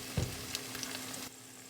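Food sautés in a pan with a close, steady sizzle and a short stirring knock near the start. The sizzle drops away suddenly before the end.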